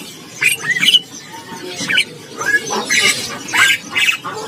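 Asian pied starlings in a market stall give a series of squawky, whistled calls, several short bursts close by over a busy background murmur.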